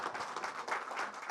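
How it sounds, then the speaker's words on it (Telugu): Audience applause at a Telugu film teaser launch, a dense, steady wash of many hands clapping close by, sustained throughout with no voices on top. "మనందరం కూడా గట్టిగా క్లాప్స్ కొట్టాలండి ఒకసారి."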